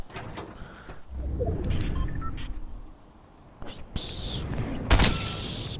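Gunfire in the video game Fortnite comes as scattered sharp shots and short bursts among other in-game noises, with quieter gaps between them.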